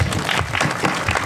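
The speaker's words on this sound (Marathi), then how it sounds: "तिघासाठी एकदा जोरदार टाळ्या वाजवा." Dense, loud applause from a large audience at a devotional kirtan gathering, steady clapping filling the whole moment without a break.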